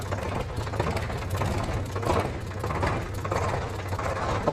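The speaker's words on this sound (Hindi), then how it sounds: "देख लो भाई, एक बार में चालू हो रहा है ट्रैक्टर।" Yanmar Japanese mini tractor for orchard work, double clutch and multi PTO, its diesel engine running at a steady idle with a close rhythmic chugging knock and no talk over it.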